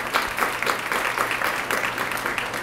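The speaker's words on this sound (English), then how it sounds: "let's give them a round of applause" An audience at a student heroes recognition event in Okaloosa County, Florida, applauds two board members with steady, dense clapping that holds throughout at moderate level, with no voices over it.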